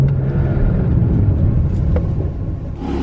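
Porsche with a valved exhaust running, a steady low rumbling engine drone, close and continuous, with a faint tinny edge.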